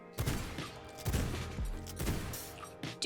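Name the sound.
pistol shots in video game V Rising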